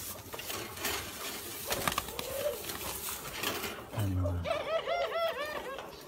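Young caged birds at a bird farm call with soft, rolling coos in the second half, close to the listener, over rustling and low background noise.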